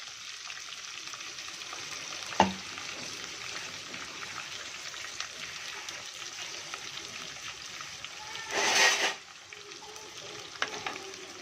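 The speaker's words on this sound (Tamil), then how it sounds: "அரைச்சி வச்ச வெங்காயத்தை போட்டுக்கலாம்." Ground onion paste frying with dried chilli and curry leaves for chicken masala, a quiet, steady sizzle with a sharp clink early on and a brief louder rush of stirring or sputtering near the end.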